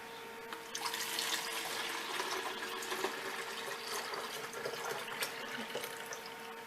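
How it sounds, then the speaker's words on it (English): Mulberry juice is poured into a jar, a faint, steady liquid splashing and trickling stream with small irregular spatters, continuing quietly for several seconds. "I'm actually going to put it in this jar because I don't want to spill too much."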